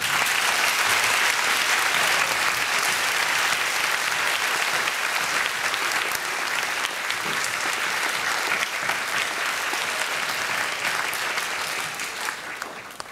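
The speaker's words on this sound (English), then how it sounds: "So, one big round of applause for the cast." A school audience at Tohoku International School applauds the cast of Alice in Wonderland after the show, a long, loud and steady burst of clapping from a full room that fades slightly near the end.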